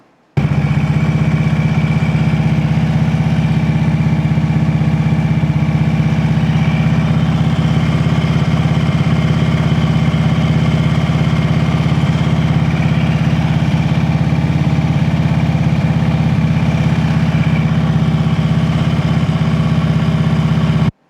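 A motorcycle engine idling at steady RPM during low-speed handlebar turns, a loud, close, continuous drone with an even pitch from start to finish and no revving.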